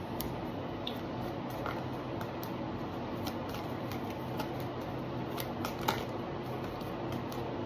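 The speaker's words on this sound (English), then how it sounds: "I'm being told to shuffle a little bit more." A deck of tarot cards is shuffled in a quiet room, a soft continuous riffling with faint scattered clicks, close but low in level and with no talking.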